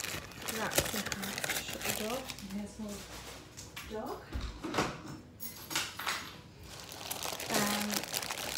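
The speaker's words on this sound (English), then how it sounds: "I'm just gonna cut one of these wraps in half." Kitchen scissors cut a Warburton's gluten-free wrap in half, with crinkly, rustling snips and handling noises throughout while a person talks over them.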